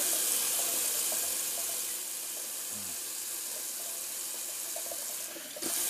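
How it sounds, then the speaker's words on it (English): Cold water runs from a tap while a safety razor is rinsed, a steady close hiss of flowing water with a brief clink near the end. "And I'm just gonna do a quick little cold water rinse."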